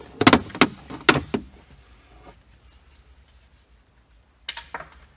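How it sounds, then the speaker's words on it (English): Plastic trim panel being pried off a Tesla Model S dashboard, a few sharp clicking snaps and clacks in quick succession, a quiet pause with faint rustling, then two more clicks near the end. "So let's go ahead and remove this trim panel."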